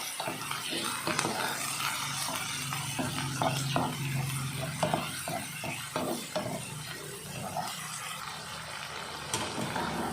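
Squid sizzles steadily in a hot pan, with intermittent stirring clatter and scraping close by.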